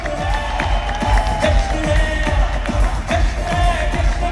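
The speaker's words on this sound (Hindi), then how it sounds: "तालियों की गड़गड़ाहट" A crowd at a motivational business gathering claps and cheers loudly in a continuous roar with rhythmic bursts and whoops throughout.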